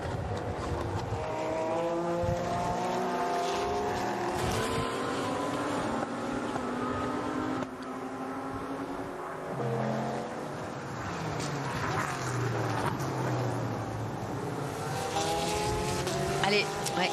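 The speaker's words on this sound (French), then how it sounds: "Tom Blomqvist qui va tout faire pour emmener cet Acura du meilleur Shank à nouveau vers la Victory" Race cars roar past during the closing laps of the 2023 24 Hours of Daytona, including an Acura, their engines rising and falling in pitch as they pass, under continuous French-language commentary.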